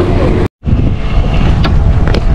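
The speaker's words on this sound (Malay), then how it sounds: "Angin kuat." Strong wind buffets a boat out at sea, a loud steady roar of gusts and hull noise across the whole stretch, broken by one brief dropout near the start.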